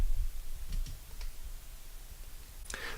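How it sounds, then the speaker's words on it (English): A Mac mouse is clicked while the control key is held down, giving a few sparse, faint, sharp clicks over a quiet room hiss with no speech. "hold down the control key on the keyboard as you do a normal left-click"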